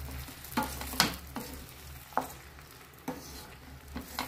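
Tomato paste, made from lightly ground tomatoes, fries in a pan with a soft background sizzle, punctuated by several quiet, irregular stirring scrapes close by.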